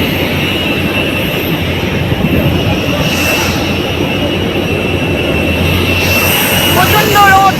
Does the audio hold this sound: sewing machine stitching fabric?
no